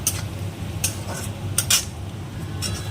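Onions frying in a pan for a Bengali rohu fish curry: a steady soft sizzle runs throughout, broken by several clinks and scrapes of a metal spatula against the pan, with no talking.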